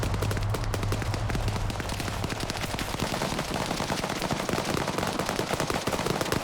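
Rapid bursts of automatic gunfire crackle continuously in a PvP military shooter game set in an embassy crisis, loud, dense and overlapping, with no pauses.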